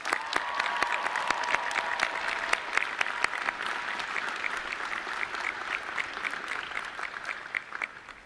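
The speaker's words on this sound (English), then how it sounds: "Let's give these amazing people a round of applause." A commencement crowd gives a sustained round of applause, a steady, dense patter of many hands with sharper individual claps poking through, gradually easing near the end.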